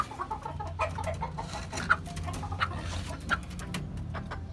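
Chickens in a rooftop coop cluck softly and intermittently over steady low background noise, several birds heard moderately near with no talk.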